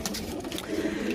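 Pigeons coo in soft, throaty bursts close by, overlapping in a low rolling murmur with no pause across a brief moment.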